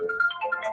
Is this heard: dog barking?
no